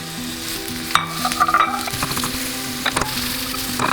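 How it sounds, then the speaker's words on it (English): Onions hit hot olive oil in a pan with a loud, steady sizzle, while a utensil scrapes and clatters against the pan in quick bursts of stirring, close and clear with no talking. "Once our pan is nice and hot, we are going to add our onions."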